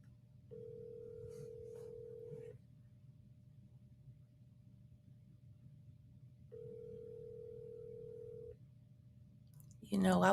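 A telephone ringback tone sounds in two steady two-second pulses separated by a long silence, heard close over faint background hiss, just before a voice starts speaking at the very end.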